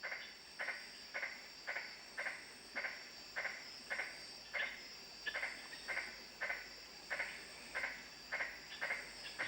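Magnificent tree frogs calling at night around a rocky sandstone camp in the Kimberley, a steady series of evenly spaced, rasping pulses repeating about every half second over a faint insect hum.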